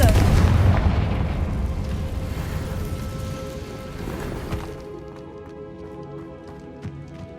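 Magical Bombarda and Confringo spell explosions in the Hogwarts Legacy video game go off as a loud, booming blast that rumbles and then fades into a quieter ringing tail.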